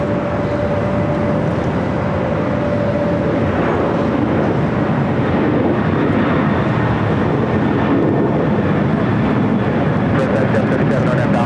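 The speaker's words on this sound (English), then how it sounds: "We do have that United A321 Neo." United Airbus A321neo jet at LAX gives a loud, continuous engine rumble and hiss with a faint steady tonal whine early on, holding level throughout.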